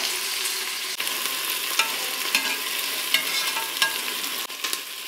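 Onions fry in hot oil in a pan for a village-style country chicken curry, giving a steady, close sizzle with occasional stirring clicks and scrapes and no voices.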